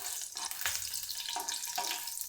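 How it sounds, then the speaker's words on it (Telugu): Green chillies frying in hot oil for restaurant-style veg fried rice, a steady close hiss and sizzle with scattered crackles and faint stirring clinks, no voices. "చిప్పట్లాడేంత వరకు ఫ్రై చేయాలి"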